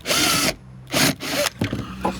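Power drill removing a plug from a cumaru hardwood deck board: three short, loud whirring bursts separated by brief pauses, then fainter tool handling.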